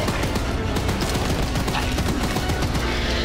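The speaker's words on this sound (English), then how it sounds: "Machine gun." Rapid machine gun fire in the Choo-Choo Charles video game, a dense, steady burst of rattling shots close up that goes on without a break, with no talk over it.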